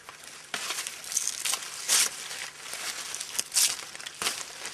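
A banana leaf being cut down the middle, heard up close as dry crinkling and tearing rustles that come in several louder bursts.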